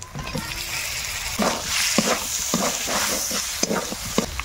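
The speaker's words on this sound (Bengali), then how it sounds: "ভালো করে মশলাগুলো আমি কষিয়ে নেব" Spices with turmeric powder, salt and chopped tomato being stirred and fried in a pan, a continuous sizzle broken by repeated scraping strokes of a spoon, close and fairly loud, no talk.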